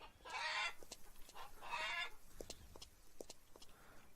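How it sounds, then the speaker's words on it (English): Chickens cluck in the video game Farmer's Dynasty, in scattered short notes, broken by two louder squawking bursts near the start, soft and a little distant. "There's the chickens."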